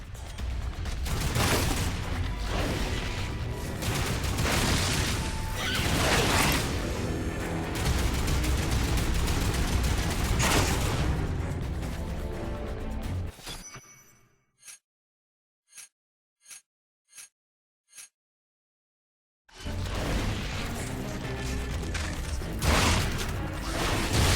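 Gunfire in Lost Planet 3 during a creature attack on a home base: dense sustained shooting and bursts for about thirteen seconds, then near silence broken by five evenly spaced single shots before loud firing resumes.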